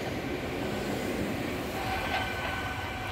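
A German U-Bahn subway train rolls past close by, a steady loud rumble of wheels and carriage noise filling the whole stretch.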